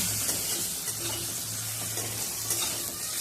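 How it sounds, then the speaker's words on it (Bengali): Potato pieces fry with salt and turmeric in a pan, a steady close sizzle with stirring scrapes running continuously throughout, no talk. "হলুদ গুঁড়ো দিয়ে ভালো করে আলুটাকে ভেজে নেব"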